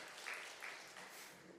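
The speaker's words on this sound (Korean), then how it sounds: "하나님 앞에 영광의 박수 올리겠습니다" Church congregation applause, a brief, even wash of many hands clapping together, heard from some distance and fairly faint, lasting under two seconds.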